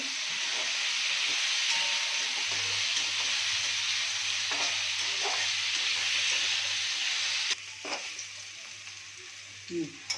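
Pumpkin and potato frying in a pan, a steady hissing sizzle with occasional stirring scrapes and a low hum, quieter after a lid clank near the end.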